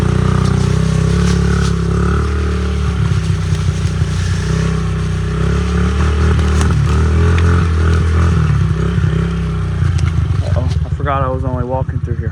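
A budget dirt bike rides a freshly cleared woodland trail, a loud close engine drone with clattering and scraping over the ground, while a person briefly talks near the end.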